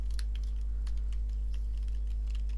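Rapid clicking keystrokes on a computer keyboard, close and fairly loud, in quick irregular bursts over a steady low hum.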